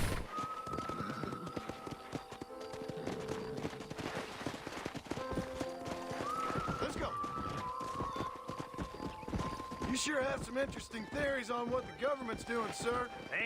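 Horse hooves clip-clop steadily in Red Dead Redemption on Xbox 360 while wrangling horses, with neighs and whinnies rising near the end, all under game music and a talking voice.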